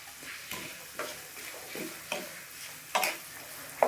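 Ginger and vegetables frying in oil in a pan for vermicelli upma, a steady soft sizzle broken by periodic stirring scrapes and light clinks of a utensil, close and alone with no talk.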